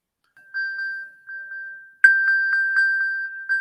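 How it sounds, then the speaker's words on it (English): A Find My iPhone alert sound plays from an iPhone, a high repeating electronic ping in short bursts that turns louder and more rapid partway through, close and clear, with no talking. "this will play a sound even if your phone is on mute"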